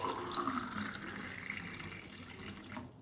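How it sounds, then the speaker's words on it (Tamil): Cucumber drink poured into a glass tumbler, a steady liquid splash and trickle running close and alone for about three seconds. "இப்போ இதை வந்து ஒரு கிளாஸ் டம்ளரில் மாற்றிடலாம் நம்ம."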